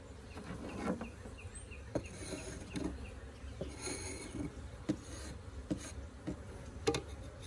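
Honeybees from a newly installed three-pound package humming steadily inside an opened hive during a first inspection, a dense buzz with soft bumps and rubs of frames and boxes, close and even throughout.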